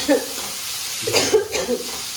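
Spiny gourd (kankoda) pieces for a curry sizzling in a pan with Kashmiri-style chilli, a loud close hiss stirred in short bursts, with a brief vocal sound mixed in.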